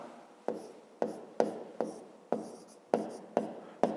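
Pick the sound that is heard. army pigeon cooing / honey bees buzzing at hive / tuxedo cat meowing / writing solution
writing solution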